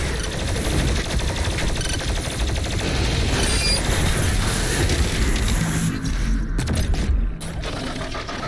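Dense, rapid mechanical firing from the sticky bomb shotgun in DOOM Eternal, a continuous rattling clatter of shots and metallic clanks, loud and close throughout with a brief dip near the end.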